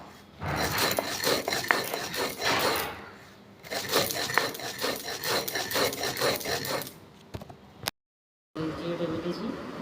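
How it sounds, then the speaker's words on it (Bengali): Roasted cumin seeds are ground by hand on a stone grinding slab, rhythmic gritty rubbing strokes in two long bursts, followed by a brief silence and a short stretch of other noise. "জিরেটা বেটেছি, গুঁড়ো করা হয়ে গেছে"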